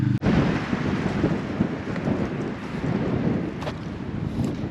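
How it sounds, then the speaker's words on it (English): Strong wind buffets the microphone at a roadside stop in Argentina, a loud, continuous low roar with gusty surges and no talk. "It's pretty windy."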